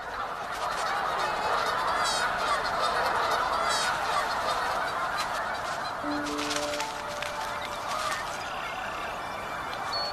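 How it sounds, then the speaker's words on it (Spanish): A dense chorus of migrating birds on the North American prairie calls continuously, with honking and gobbling cries overlapping loudly and steadily throughout, with no talking. "Muchas aves se dirigen hacia el norte para aparearse en el Ártico."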